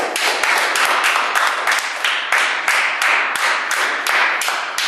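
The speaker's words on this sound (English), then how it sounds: "for them a round of applause" An audience at a lesson or presentation breaks into steady, dense applause, many hands clapping close together with a faintly rhythmic pulse, sustained and fairly loud throughout with no voices over it.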